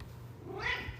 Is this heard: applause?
no